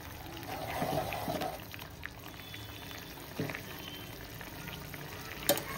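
Small prawns simmer in a masala gravy in a pan, giving a steady low bubbling and frying hiss with a few soft stirring knocks, fairly quiet and without talk.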